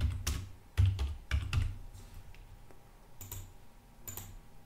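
A few sharp keystrokes on a computer keyboard come in short clusters, then sparse lighter taps follow. The sound is close and fairly quiet, with no voices.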